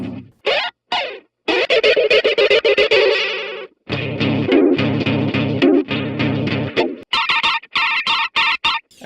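Electric guitar played through a Fromel Seraph Deluxe chorus pedal, with shimmering, warbling chords and single notes in choppy bursts, loud and upfront with distorted, modulated sustain and sudden stops.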